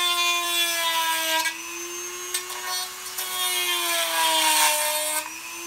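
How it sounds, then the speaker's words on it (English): A Dremel rotary tool cuts a small channel into a Lancer rifle magazine, a close, loud, high-pitched whine that sags and recovers in pitch as the bit loads up in the material, with short scraping bursts and no talking. "I've got a bit on the Dremel, you're just going to create a little channel right there for the paracord to slide through."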